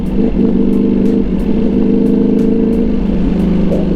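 A motorcycle engine drones loud and close while the rider shifts down through the gears, the steady mid-pitched rumble holding with a slight swell near the end.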